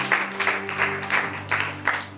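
A church congregation claps in a steady rhythm, about three claps per second and fairly close, over a sustained low musical tone.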